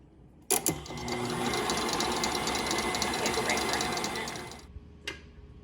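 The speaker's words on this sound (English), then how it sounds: "we're going to keep mixing it" An electric mixer whirs steadily and close for about four seconds while whipping egg whites for a Japanese soufflé cheesecake, with clicks as it starts and a clack after it stops.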